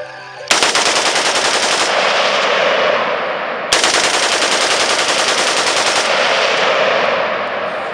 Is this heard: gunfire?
yes